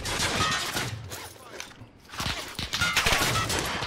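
Distant bursts of Call of Duty Warzone gunfire crackle in quick clusters, fairly faint, with a short lull midway before the shooting picks up again.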